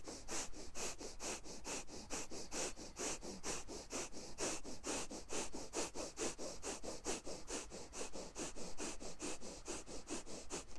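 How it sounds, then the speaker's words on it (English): Rapid, rhythmic forceful breaths through the nose in an energy-clearing breathing exercise, about three to four per second, close and steady for the whole stretch with no talking. "here I'm going to share a fabulous breathing exercise"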